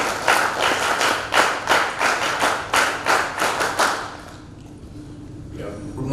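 A few people clap in a loose, rhythmic burst during an event opening at an NTTF gathering in Pune, about a dozen sharp claps over four seconds before fading into a quiet room hum.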